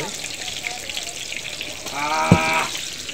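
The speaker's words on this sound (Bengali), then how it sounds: "রান্না হচ্ছে গরম গরম বেগুনি ভাজা।" Hot eggplant fritters (beguni) fry in oil with a continuous hissing sizzle, while a voice briefly rises over it near the end.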